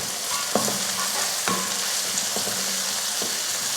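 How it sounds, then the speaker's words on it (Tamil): Shallots and garlic sauté in a pan for an anchovy fish curry, giving a steady close sizzle broken by several sharp scrapes and taps of a stirring spoon against the pan. No one talks. "நல்ல பொன்னிறமாக வர வரைக்கும் வதக்கிக்கலாம்."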